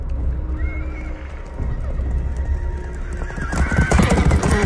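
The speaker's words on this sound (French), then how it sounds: "Les chevaux ils se barrent." Horses whinny and gallop in a Game of Thrones scene, a high neigh rising early, then a rush of pounding hooves building louder toward the end amid rustling background noise.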